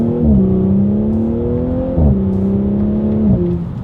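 An Audi S4 sport sedan launches from a standstill, its engine rising loudly and then dropping sharply at quick paddle-shifted upshifts, two distinct shifts breaking the climbing note, with no talking.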